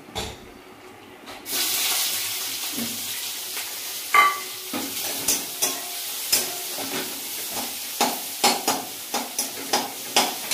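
Onion, garlic and green chilli sizzle as they fry in a pan, with a steady hiss broken by repeated stirring scrapes and clinks.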